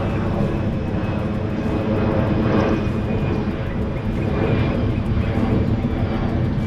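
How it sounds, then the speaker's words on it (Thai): An airplane flying low overhead while someone reviews Skechers Go Run Ride 11 running shoes outdoors, a loud, steady, broadband engine roar filling the whole stretch without a break. "เครื่องบินอยู่เครื่องบินมา ดูดิ"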